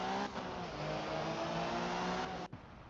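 A rally car engine in the video game Art of Rally drones and revs steadily at a fairly quiet level, then cuts off abruptly near the end.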